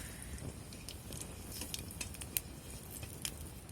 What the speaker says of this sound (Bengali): কড়ার মধ্যে আবারও দিয়ে দিলাম সামান্য সর্ষের তেল। ফোড়নে দিলাম শুকনো লঙ্কা, গোটা জিরা।